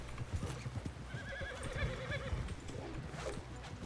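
In the RedM (Red Dead Online) roleplay server WildRP, a horse's hooves clip-clop steadily in a town while the horse neighs partway through; the sounds are moderate and close, with no talk.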